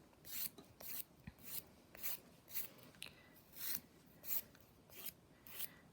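A file works a tooth's rounded apex in a curved motion, giving about ten regular raspy strokes, each a short bright scrape close up, with quiet gaps between them.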